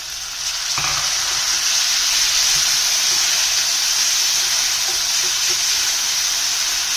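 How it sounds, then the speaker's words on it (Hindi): Onions and tomatoes fry over a slow flame in a pan, giving a loud, steady, close sizzling hiss. One faint knock comes near the start, and no one speaks. "और थोड़ी देर हम और प्याज को फ्राई करेंगे"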